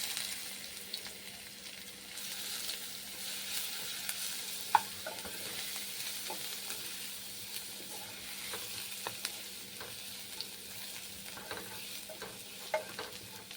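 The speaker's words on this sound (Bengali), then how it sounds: "রসুন এইরকম ভাজা হবে" Grated garlic and black cumin seeds frying in hot oil, a soft continuous sizzle with small scattered pops and crackles and occasional stirring scrapes, moderately quiet and steady throughout.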